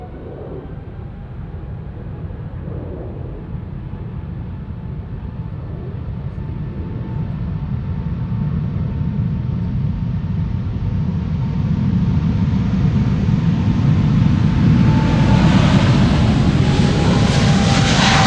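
A China Southern Cargo Boeing 777 departs Amsterdam Schiphol, its jet engines building from a steady broad roar into a louder, brighter rumble with a rising whine as the takeoff run grows closer and stronger.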